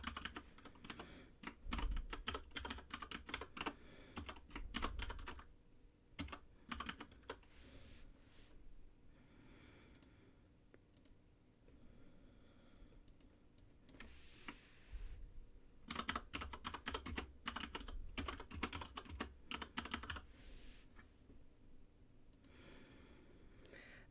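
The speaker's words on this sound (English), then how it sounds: "We're going to type in the values" Keys clatter steadily on a computer keyboard as values are typed into a database form, close and fairly quiet, in irregular bursts separated by short pauses.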